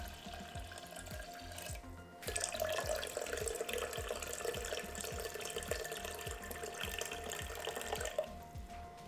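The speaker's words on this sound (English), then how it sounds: "Pour in enough warm water, about 40 degrees Celsius, 105 degrees Fahrenheit, to cover 2/3 of the way up the jars." Warm water, about 40 degrees Celsius, pours steadily into a cooker pot around glass yogurt jars for Vietnamese-style yogurt, a continuous close splashing stream that grows fuller after the first couple of seconds.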